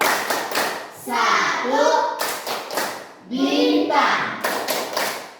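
A group claps out a rhythmic patterned game, Tepuk sila-sila Pancasila, sharp hand claps in quick bursts between children chanting along in a classroom.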